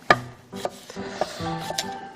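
A knife quickly julienne-slices onion on a cutting board, a run of crisp, close chops in an uneven quick rhythm, heard alone.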